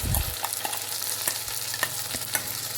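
Onion paste for a fish curry sizzles steadily in a hot pan, with occasional sharp stirring scrapes and ticks over a constant close frying hiss; no voices.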